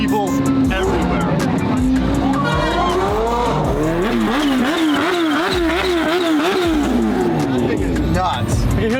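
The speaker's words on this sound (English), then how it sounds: "You can hear the turbo on it." A turbocharged car engine, tied to a Lamborghini, revs and shifts at a rally starting grid, its rising and falling pitch sweeping up and down with tire squeal, loud and close, under ongoing talk.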